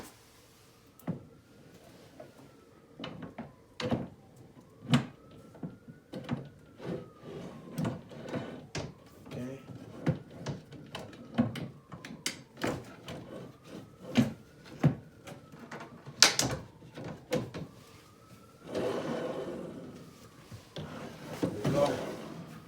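Wooden cabinet door of a GAZHOME modern farmhouse TV stand being assembled, with repeated sharp knocks, clicks and wood rubbing scattered irregularly across the clip, close by, with occasional faint talk between the bursts.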